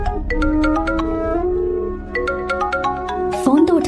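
A phone ringtone plays a bright, repeating electronic melody of quick plucked notes, loud and close, ending in a burst of rustling.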